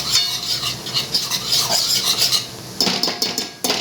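A utensil stirs salt into a white sauce for pasta in a pan, close-up scraping and rubbing strokes in a steady rhythm, briefly pausing before resuming, with no talking.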